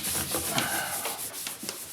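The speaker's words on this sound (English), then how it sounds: "This is the sound of Bartow throwing charcoal on a huge canvas in his studio." Charcoal is thrown against and rubbed across a huge canvas in an artist's studio, producing brief scraping, rasping strokes with a few soft thumps, close and fairly quiet, with no speech.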